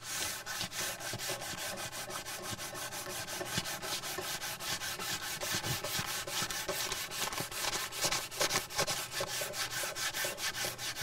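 A sanding block worked by hand over a primed surface, giving a continuous scratchy rasp broken into quick, even back-and-forth strokes, close and steady for the full length.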